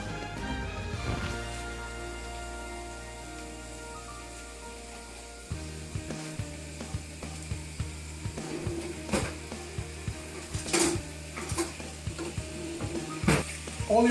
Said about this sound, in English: we're placing the beef in the pan fry